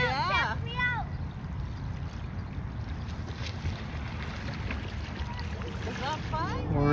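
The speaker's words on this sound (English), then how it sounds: "We've run into some rapids." Rushing water from rapids in a river canal during a float between Okanagan Lake and Skaha Lake in Penticton, British Columbia, a steady broad wash heard close under people talking.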